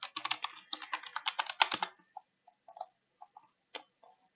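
Fast typing on a computer keyboard, a quick burst of close clicking keystrokes that slows into scattered single taps, quiet with no voices.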